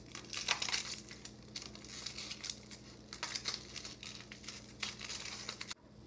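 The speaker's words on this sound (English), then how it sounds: "First step is peeling the onions." Onion skin being peeled by hand in a kitchen, giving close, quiet crinkling and papery tearing in short bursts over a steady low background hum.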